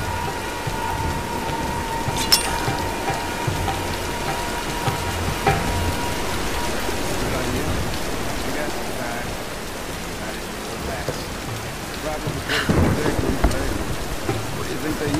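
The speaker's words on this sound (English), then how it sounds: "Nah, let's wait out the storm." Steady rain patters in a storm in Tomb Raider Definitive Edition on Xbox One, with a few sharp cracks and a swelling thunder rumble near the end.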